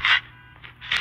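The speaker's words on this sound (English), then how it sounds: "Changing mag." A video game magazine reload: two short, bright metallic scrapes about a second apart with a softer rattle between them, close and clear with no talking.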